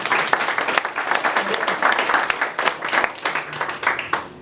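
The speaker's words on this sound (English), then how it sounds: "Let us please give all the candidates a round of applause" Applause for forum candidates fills the room, a dense sustained wash of many hands clapping at steady volume from start to finish.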